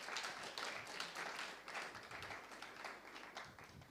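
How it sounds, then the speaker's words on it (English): Audience clapping at a panel discussion on heritage and human rights, a steady broadband patter of many hands that holds for about four seconds and then tapers slightly. "Let's give him a round of applause."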